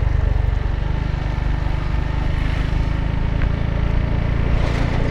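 A motorcycle engine drones steadily and loudly while riding, a low continuous rumble mixed with wind rush, with no clear break marking the gear shift.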